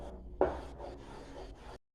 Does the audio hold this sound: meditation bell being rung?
no